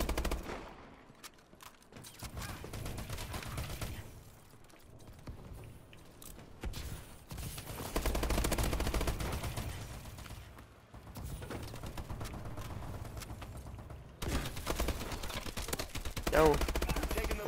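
Bursts of rapid automatic gunfire from the Bale 27 rifle in an urban team deathmatch of Call of Duty: Advanced Warfare, loud and sustained in long runs with brief lulls between volleys.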